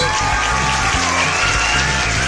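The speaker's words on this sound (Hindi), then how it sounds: "अपडेट करो मूड को और बजा दो ताली" Steady applause fills a cartoon jungle story for kids, a dense continuous clapping texture of many hands that stays loud and even from start to finish.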